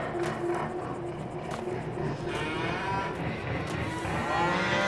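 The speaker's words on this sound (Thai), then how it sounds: "วัวพวกนี้นะ ใจเย็นๆ" Dairy cattle low and moo repeatedly inside a livestock trailer pulled behind a tractor-style hauler on a farm, close and fairly loud, with faint background rumble.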